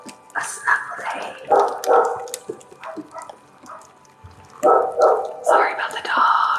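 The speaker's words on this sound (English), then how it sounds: "Sorry about the dogs." Several dogs in a home bark and yip in irregular bursts, loud and close, with short pauses between outbursts and some whispering-like voice sounds mixed in.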